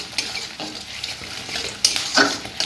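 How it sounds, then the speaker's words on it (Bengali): Onions frying in a pan on a home kitchen stove with the heat turned up: a steady close sizzle broken by scraping stirs and a few utensil clinks against the pan. "এইদিকে পেঁয়াজটা ভাজা হচ্ছে এখনও, একটু জোরে দিয়ে দিই, জোরে দিলে তাড়াতাড়ি হবে।"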